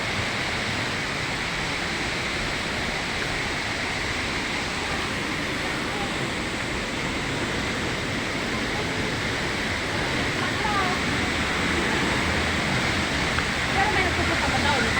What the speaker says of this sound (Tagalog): Napakaganda ng waterfall.